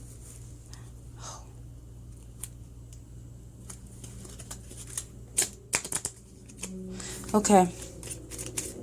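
Jumbled playing cards shuffled and riffled in a quick burst of papery flicks near the end, after a stretch of quiet handling, with a brief spoken word partway through.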